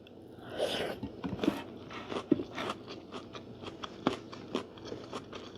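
Someone eats rice with chili paste and fresh raw vegetables, crunching and biting close up in irregular bursts with soft chewing between them and no talking.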